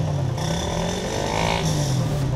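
A 150cc motorcycle fitted with a custom racing exhaust revs loudly and steadily up close, the engine note rising and holding through a throttle blip.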